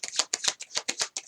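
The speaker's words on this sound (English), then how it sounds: "Let's take out more cards for" Tarot cards being shuffled in close, crisp bursts, roughly eight quick riffling swishes in a steady rhythm, with no talking.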